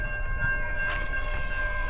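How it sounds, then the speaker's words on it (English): A train on South Coast Rail sits near the Berkley crossing at night, giving a steady low rumble with a sustained tonal hum layered over it, continuous and moderately loud, with no voices. "There's one train idling down there."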